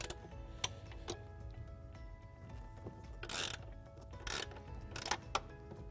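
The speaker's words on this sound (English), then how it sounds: "With a 1/2-inch wrench, we will loosen the pivot shaft" A half-inch wrench loosens the pivot shaft on an Envoy bowling lane cleaner, giving a few sharp metallic ratchet clicks and clanks spaced irregularly over a low machine hum, close and fairly quiet.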